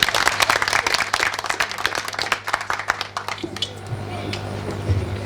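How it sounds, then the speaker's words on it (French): An audience at a diocesan training closing ceremony claps loudly with sharp, close hand claps for about three and a half seconds, then the applause thins out and fades as a voice begins speaking. "Des applaudissements pour lui."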